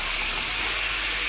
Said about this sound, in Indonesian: minyaknya udah panas ya, teman-teman ya. Sekarang sama aku mau dimasukin daging ayamnya